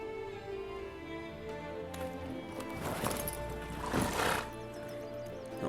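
A horse whinnies in The Witcher 3, a long rising and falling neigh with soft hoof clops and snorting breath, fairly quiet and close.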